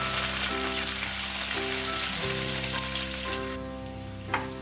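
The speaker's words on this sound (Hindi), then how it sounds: "तेल गरम हो चुका है तो इसमें हम डालेंगे, ये बॉयल आलू है, इसको हम इसमें डाल देंगे।" Boiled potatoes frying in hot mustard oil for dahi aloo curry, a loud steady sizzle and crackle filling the space, then dropping quieter toward the end with one brief clatter.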